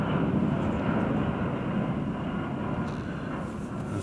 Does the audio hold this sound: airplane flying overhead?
yes